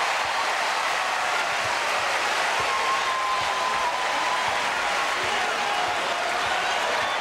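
Crowd cheering and applauding at a 2003 NCAA women's volleyball regional final between Hawaii and Georgia Tech, a dense, steady roar of noise that fills the arena throughout with a faint whistle-like tone over it.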